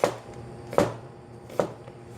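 A sharp Dalstrong knife chops onions on a board: three crisp, evenly spaced cuts, roughly one every 0.8 seconds, close and clear with nothing else in the background.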